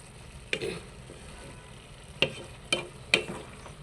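Saag greens with chopped garlic stir-fried in a pan, with a steady low sizzle underneath and four distinct sharp scrapes of the spatula at spaced intervals, close up and without any voices.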